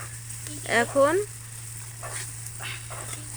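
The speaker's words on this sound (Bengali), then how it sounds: "মশলাটুকু কষানো হচ্ছে" Spices sautéing in a pan for pickle, a steady low sizzle under a woman's brief speech, with faint stirring scrapes.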